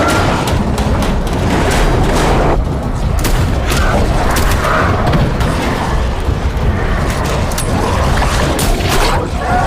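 Heavy film gunfire erupts in a dense, continuous barrage of loud booming shots and rattling bursts, close and chaotic, filling the whole stretch without a pause.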